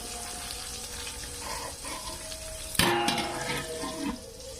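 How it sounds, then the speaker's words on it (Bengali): Eggplant fries in a pan with a continuous hiss and sizzle, broken by a sudden loud clatter and burst of stirring or shifting partway through, then settling back to a softer sizzle. "এইভাবে আমি ভেজে নেব।"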